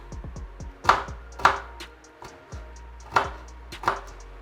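A knife chops onions into small bits on a cutting board, with a run of sharp, close knocks, some quick and light, others heavier and spaced apart, and no voices.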